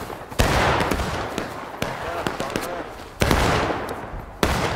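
A musket volley rings out in the War of Brothers game: a sharp crack near the start, then scattered reports and further loud rifle shots spread over several seconds against a busy battlefield backdrop.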